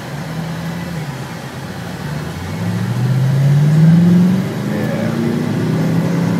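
A car engine revs up in a rising, loud pull that peaks then settles back to a steady drone, heard from inside the car, with a brief spoken word.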